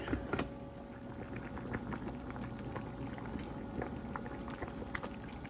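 Chicken for biryani simmering in a covered pot, giving a faint, steady bubbling with soft crackles and little pops throughout.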